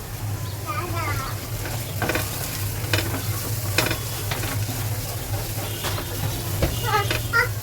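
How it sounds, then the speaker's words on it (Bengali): Vegetables and egg are stir-fried together for noodles, a loud continuous sizzle broken by repeated scraping and clattering stirring strokes of a spatula against the pan. "ভালো করে ডিমের সাথে সবজিগুলো মিক্স করা হয়ে গেছে"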